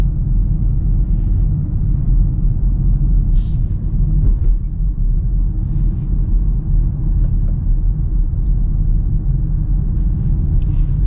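A low, steady engine rumble, piped into the cabin through the speakers, fills the interior of a 2025 BMW X3 or 2025 Range Rover Velar while driving, with faint road noise and no talking.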